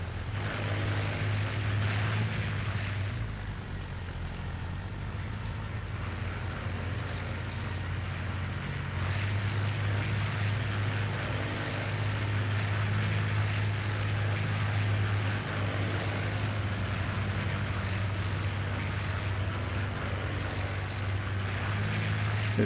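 Stuka dive bombers diving on Thorney Island airfield, their propeller aircraft engines droning in a loud, steady, continuous roar that swells slightly in places, with no voices.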